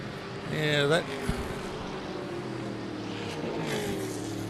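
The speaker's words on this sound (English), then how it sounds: "that car of Gordon Burr, number 18, the Monaro, the orange Monaro. It's certainly got some mumbo, hasn't it" Orange Holden Monaro, car number 18, racing at SKOPE 2025. Its engine drones under crowd and track noise, with a brief higher-pitched rev near the start and another faint pass later.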